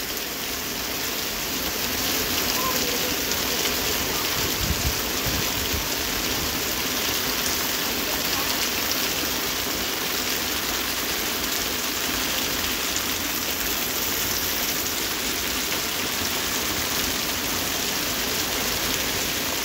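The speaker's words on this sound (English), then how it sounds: "This might be the heaviest rain I ever saw." Heavy rain from a thunder shower pours down over a lake in a dense, unbroken roar that stays loud and constant throughout.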